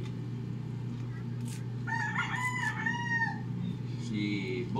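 A rooster crows once, fairly close but moderately loud, its drawn-out call rising over a steady low hum, with faint background sounds around it.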